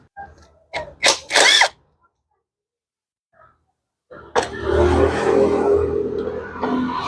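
A power tool loosens a 17 mm bolt on a BS6 Hero Splendor motorcycle during timing chain kit work, heard as two short whirring bursts, then a quiet pause, then a longer, steadier run up close.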